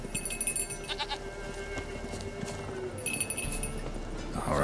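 Faint goat bleats from the Witcher 3 game, two short wavering calls spaced a couple of seconds apart over rustling outdoor ambience and soft hoof-like clatter.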